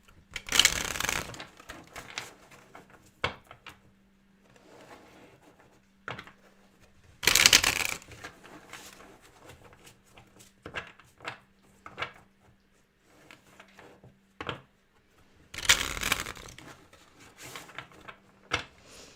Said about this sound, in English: I just wanted to do some shuffling while I'm channeling